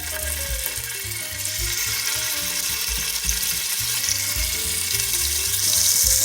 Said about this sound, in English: Next, I'm going to begin to add my beef cubes in.